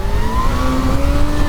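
A Kawasaki Z H2 motorcycle engine revs during wheelie practice, a close, loud, steady whine that climbs slightly in pitch over a short burst.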